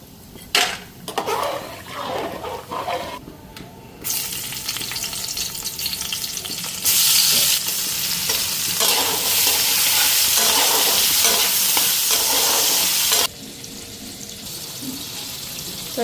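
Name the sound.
frying lentil dumplings (bori) in a pan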